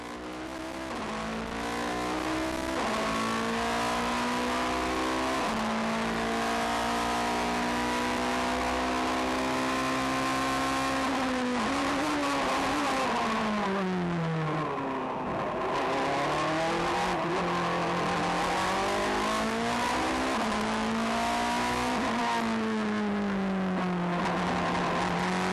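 A Super GT race car on a one-lap time attack, its engine screaming loud and close as it revs up through the gears, drops off for corners and climbs again, with brief tire squeal.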